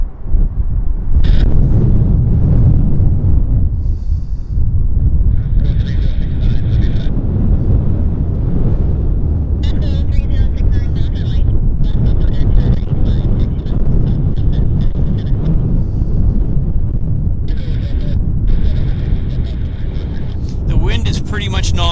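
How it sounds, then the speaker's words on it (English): Strong wind gusts buffet the microphone at Vancouver Airport, a heavy, continuous low rumble with little break between gusts, while a voice talks over it intermittently. "Pretty much non-stop. There's very little break in between the gusts. It's just constant gusting."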